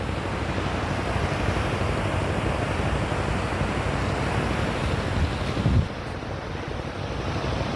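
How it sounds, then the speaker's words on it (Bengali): Rough, high-tide sea surf at Tajpur beach, a steady, loud roar of breaking waves with wind buffeting the microphone throughout. "এখন সমুদ্র খুব উত্তাল, এই যে হাই টাইড চলছে সমুদ্রে।"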